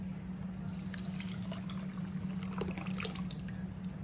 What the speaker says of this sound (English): my 4 cups right here is that good old brothy liquid right here. That's gonna go in my rice